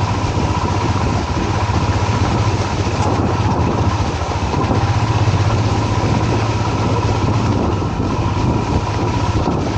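A motorcycle engine idles close by on a monsoon ride near Bhadra tiger reserve, a continuous low rumble with no breaks, loud and unchanging throughout.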